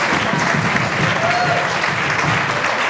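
Audience at a speech event clapping together, a dense, steady burst of applause lasting a few seconds, fairly close and loud with no pauses.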